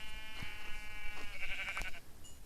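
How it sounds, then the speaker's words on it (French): A sheep bleats in the Minecraft video game, giving a wavering, nasal cry of moderate loudness over a light background hiss. "Mouton."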